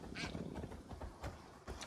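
Faint, rapid duck-like quacks from the video game Far Cry 6 sound in short bursts over a low background rumble, quiet and a little distant.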